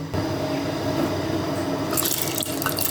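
Split lentils are rinsed under running water in a kitchen, with a steady close hiss of flowing water and squishing and sloshing as the grains are stirred, growing brighter near the end.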